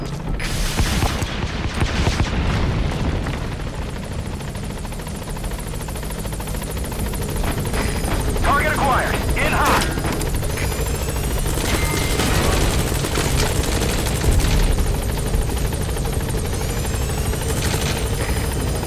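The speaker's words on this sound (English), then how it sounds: "Rockets away!" A support helicopter in the video game Metal Gear Solid V roars steadily and loudly throughout, its rotor drone under mechanical whirs and a few whooshing, rocket-like bursts with creaking metal.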